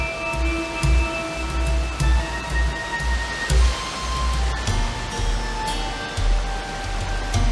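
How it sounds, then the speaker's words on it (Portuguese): A forest stream in dense woodland in Brazil's Serra das Lontras runs down a steep rock wall, giving a loud, continuous rushing roar with low, uneven surges. "o ribeirão fica bem acidentado e surge um paredão de pedra por onde a água escorre"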